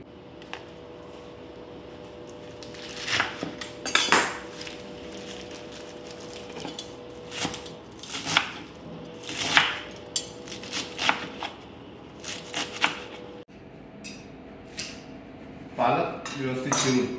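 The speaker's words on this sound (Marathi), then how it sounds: "सगळ्यात पहिले पालक जो आहे तो आपण चिरून घेऊ." A knife chops fresh spinach on a kitchen cutting board. The strikes are close and irregular, with quick bursts of sharp taps and clinks separated by brief pauses.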